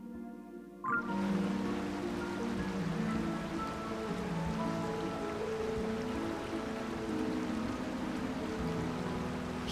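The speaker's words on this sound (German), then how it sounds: "Es regnet schon wieder." Steady rain hissing and pattering in The Legend of Zelda: Tears of the Kingdom, starting abruptly and continuing evenly, with a soft musical drone beneath.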